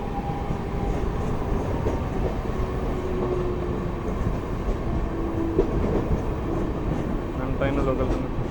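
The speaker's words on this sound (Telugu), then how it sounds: "మన ట్రైన్ లోకల్ ట్రైన్" A local train with second-class, first-class and ladies' compartments runs steadily, giving a loud, continuous rumble and rattle from start to end, with faint background voices mixed in.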